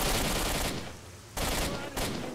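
Gunfire in the shooter game S.T.A.L.K.E.R.: Shadow of Chernobyl, with loud bursts of shots in two or three clusters separated by brief lulls.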